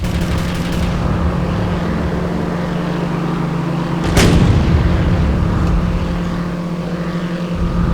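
A bombard artillery piece fires in the WWII strategy game Sudden Strike 3, one sharp loud blast followed by a rumbling decay over a steady low engine-like hum, with no talking.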